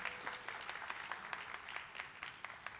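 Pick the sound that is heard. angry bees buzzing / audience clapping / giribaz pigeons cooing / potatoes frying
audience clapping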